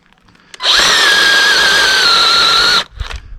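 A mini chainsaw with a thin chain cuts firewood in one loud, steady, high-pitched motor whine lasting about two seconds. It stops abruptly, followed by a few faint knocks.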